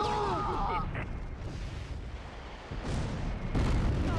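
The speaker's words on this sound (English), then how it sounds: "drop some mortars on these boys." A mortar barrage in the video game Close Combat III sounds as rumbling explosions and booms at mid distance, with heavier blasts near the end.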